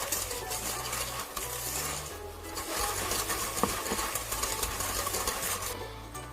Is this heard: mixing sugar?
yes